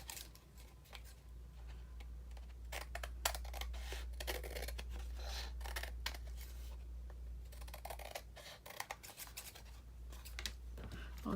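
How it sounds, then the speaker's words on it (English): Scissors snip paper overhanging the edge of a cardboard box piece, a series of quiet, irregular cuts and crinkles close by over a low steady hum. "trimming the paper off the cardboard where it kind of overhangs"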